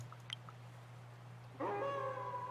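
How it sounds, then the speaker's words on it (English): A wolf-like howl from the video game Werewolf: Heart of the Forest rises suddenly over a quiet, steady hum, a single sustained, moderately loud cry that holds to the end. "The keening turns into a howl of joy."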